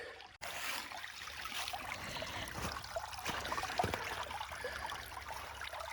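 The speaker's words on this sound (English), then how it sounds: "So when I said this creek is tiny, it is really, really tiny." Water trickles and burbles quietly through a very small creek in hilly country, a soft continuous flow with a few small splashes and no voices.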